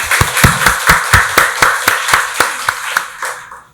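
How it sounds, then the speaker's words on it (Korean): A Korean church congregation at a Sunday worship service claps in unison, a close, loud run of about fifteen evenly spaced beats at a brisk steady tempo, with a brief scatter of claps as it ends. "박수로 하나님께 영광 돌리겠습니다"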